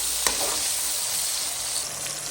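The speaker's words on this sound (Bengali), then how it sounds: "একসাথে ভাজা ভাজা হয়ে যায়।" Tomatoes, salt and cinnamon with other spices frying together in a pan for a Bengali chicken and potato curry: a loud, steady, close sizzle throughout, with a brief knock near the start.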